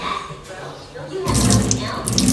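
Water splashes and pours out in a steady rush as it is drained from soaked soybeans after a quieter moment, close by and fairly loud.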